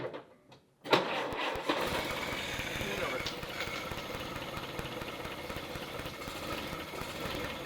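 A rusty 1948 Willys Jeep engine catches after a short quiet start and runs on with a rough, uneven mid-pitched rumble, close by, while people talk over it.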